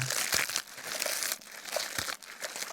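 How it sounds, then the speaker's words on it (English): Dry walnut husks being peeled off by gloved hands give close, crisp crinkling and crackling, with bursts of papery rustle and small snaps running continuously with no talking. "I have successfully shelled 25 husks off of the walnuts."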